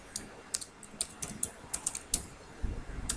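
Someone types on a computer keyboard, entering a column name for a Python data-analysis project: a quiet, irregular run of light key clicks with brief pauses.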